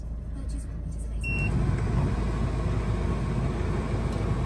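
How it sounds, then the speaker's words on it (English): A 2015 Peugeot 3008 2.0 HDI diesel automatic starts up, its engine catching after a moment and settling into a steady, moderately loud rumbling idle close by. "Just start the car up so you can see there's no warnings or any nasties."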